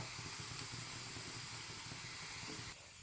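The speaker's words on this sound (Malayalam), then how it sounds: "കുക്കറിൻ്റെ സ്റ്റീം പോയി ഇനി നമുക്ക് തുറക്കാം" A steady, faint hiss of steam escaping from a pressure cooker, continuous throughout, then thinning slightly just before the end.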